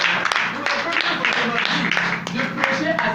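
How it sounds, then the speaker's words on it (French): A church congregation claps and cheers for the Lord in a dense wash of applause with sharp individual claps mixed in, while voices talk and shout over it the whole time. "Acclamons pour le Seigneur."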